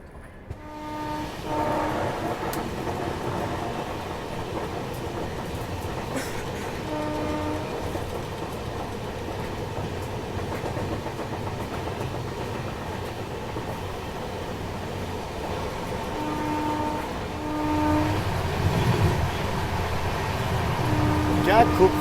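The Marudhar Express pulls out of a Rajasthan junction station with a continuous rumbling roll and steady rail noise, punctuated by brief horn or whistle tones, gradually growing louder toward the end.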